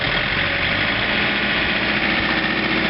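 A John Deere 110 TLB tractor engine runs at a steady, loud, close drone with a snow blower engaged on a snowy day, with no variation in pitch.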